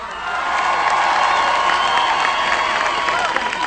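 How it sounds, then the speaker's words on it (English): A large crowd claps and cheers loudly, with whoops and shouts rising over sustained applause that swells in and holds steady. "Give them a big round of applause."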